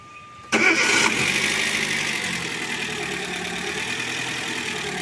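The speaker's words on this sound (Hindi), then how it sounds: "अब हम स्टार्ट करते हैं गाड़ी।" A Chevrolet Spark engine cranks and catches abruptly, then settles into a steady, close idle.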